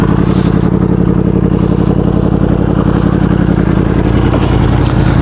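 A loud, close superbike engine, a Kawasaki H2 or a Yamaha R1M fitted with Brembo brakes, runs hard with a dense, steady mechanical roar and clatter throughout and no talking.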